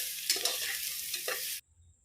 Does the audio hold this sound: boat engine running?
no